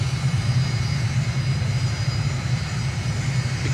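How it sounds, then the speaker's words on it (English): An airliner taxis at Incheon International Airport in Microsoft Flight Simulator, its engines giving a steady, close, even hum and low drone throughout, with no talk. "here's a bit of taxiing footage"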